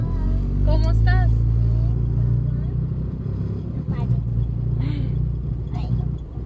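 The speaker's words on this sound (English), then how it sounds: "We are driving right now." A car drives along with a steady, loud low road and engine rumble filling the cabin, while people talk over it throughout.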